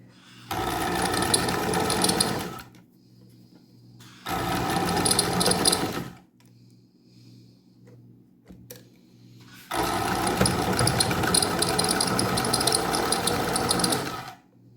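A sewing machine stitches a fabric sandwich for a coin purse in three close, steady bursts of rapid mechanical whirring, separated by short quiet pauses.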